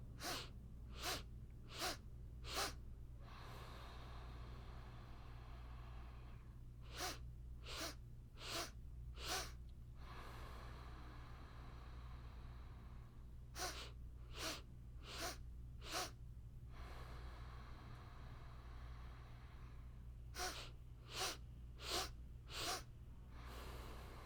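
Forceful nasal exhalations during kundalini yoga breathing practice come in quick bursts of four, repeated in four groups with pauses between, faint and close over a steady low hum, with no talking.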